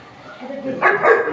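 A dog barks outdoors on a rainy night, a couple of sharp barks arriving near the end after a quieter stretch with a low voice-like murmur underneath.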